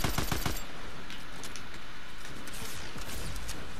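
Gunfire from a Fortnite match, with a quick burst of close, sharp shots at the start followed by scattered fainter shots and game noise, including another short cluster of reports near the end.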